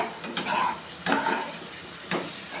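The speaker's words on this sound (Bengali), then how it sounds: "এখন আমরা মশলাটাকে কষে যাওয়ার জন্য রেখে দেব।" Spice masala fries in a pan for a teasel gourd dish, a soft sizzle under three distinct scraping strokes of a spoon against the pan, spaced about a second apart, with no talking.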